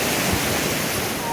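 Sea waves wash steadily at a beach, a continuous broadband surf rush with a brief thump, close to the microphone.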